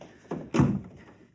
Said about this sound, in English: Now, help me close the door.